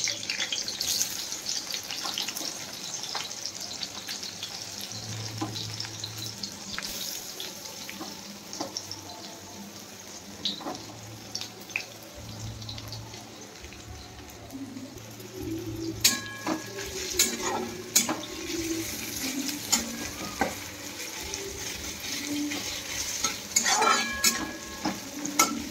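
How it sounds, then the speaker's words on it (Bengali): Sliced onions frying in hot oil in a pan for a soya biryani: a steady, close hiss of sizzling that runs throughout. Scraping and utensil clatter grow busier in the second half. "এখানে তেলটা গরম হচ্ছে, বেরেস্তাগুলো মানে পেঁয়াজ কুচিগুলো দিয়ে দেবো"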